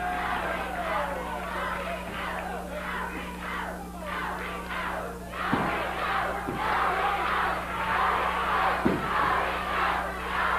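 A 1980 Memphis wrestling arena crowd cheering and chanting, a dense rhythmic roar of many voices with a few sharp thuds from the ring, steady and loud throughout.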